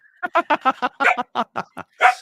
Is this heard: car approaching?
no